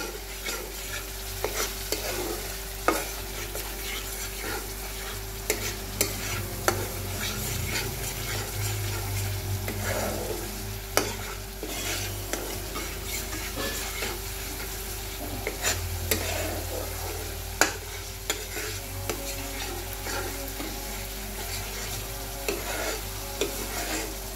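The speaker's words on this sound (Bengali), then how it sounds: "মশলাটা অল্প আছে, একটু কষে নেবেন, তাহলে ভালো হবে।" Masala frying in a pan for pabda fish, a soft continuous sizzle under a low hum, broken by frequent light clicks and scrapes from stirring.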